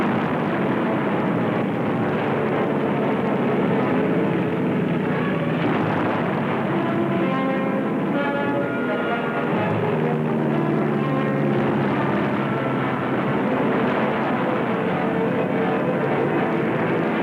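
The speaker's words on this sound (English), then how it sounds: "Our planes bomb and strafe." A dense, continuous roar of World War II warplane engines fills the air overhead, steady and loud throughout with a rumbling, churning texture.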